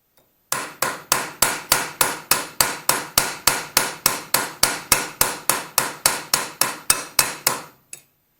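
A hammer strikes a Land Rover clutch fork pin to mushroom its head, about two dozen sharp metallic blows in a fast, even rhythm, loud and close, with no talking.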